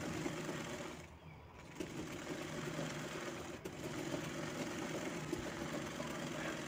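A sewing machine stitches baby frock fabric, a steady mechanical whir running throughout at close range with a brief dip near the start.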